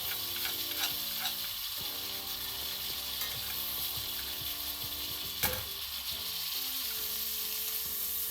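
Sirloin steak frying in butter in a hot pan for a steak sandwich gives a steady, loud, close sizzle with crackling spatters and a few light utensil clicks, and no talking.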